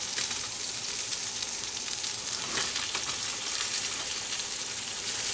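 Chicken cutlets sauté in a pan for chicken marsala, giving a loud, steady close-up sizzle and crackle of frying that carries on throughout without any speech.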